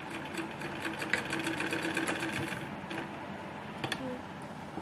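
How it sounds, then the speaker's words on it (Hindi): A sewing machine stitches a frilled sleeve, running as a steady, close mechanical whir with rapid rhythmic needle clatter throughout. "इसी तरीके से इसे एक साथ करते हुए हम सिलेंगे"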